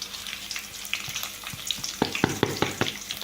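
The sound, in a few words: sautéing cumin and chilli for lemon rice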